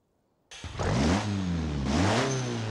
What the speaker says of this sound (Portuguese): Caraca, até que ficou um barulho muito louco o motorzão V6,